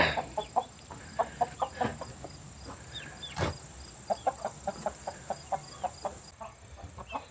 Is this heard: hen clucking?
yes